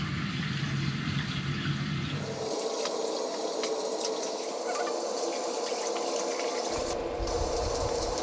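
Water sloshing and splashing as laundry is hand-washed and scrubbed in water collected in a sink, continuous and fairly close, with one change partway through.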